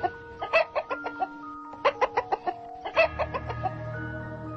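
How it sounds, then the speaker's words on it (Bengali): Chicken clucking used as a sound effect in a Bengali ghost story: quick bursts of close, loud clucks in three clusters, with no talk. "কোত্থেকে একটা কক কক কক শব্দ আসছে।"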